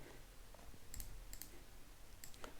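Computer mouse clicks come faintly and sharply in a quiet room, several crisp ticks spaced irregularly, some in quick pairs.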